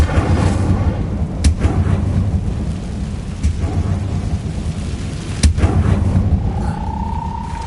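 A spell being cast in the Hogwarts Legacy video game comes through as a dense, loud roar like a thunderstorm with rain, broken by a few sharp cracks and ending in a rising tonal swoosh.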